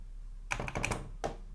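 Keys clack on an Atari 800 XL home computer keyboard during a repair, a quick burst of several close keystrokes followed by one more press after a short pause.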